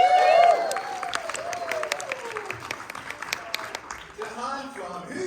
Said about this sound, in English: You can give them a round of applause as I welcome each of them.